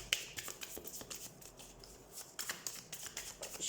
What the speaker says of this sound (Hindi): so let's shuffle the cards